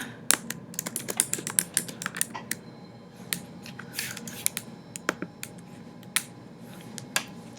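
Someone types a name on a computer keyboard: quick, irregular bursts of crisp key clicks, close and clear, with short pauses between runs of keystrokes.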